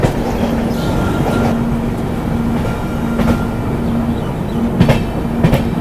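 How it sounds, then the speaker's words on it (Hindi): Rajdhani Express running from Dibrugarh to New Delhi goes past, a loud continuous rumble of rolling wagons with rhythmic clickety-clack from the wheels on the rails. "राजधानी भाई डिब्रूगढ़ से आई है और नई दिल्ली जा रही है।"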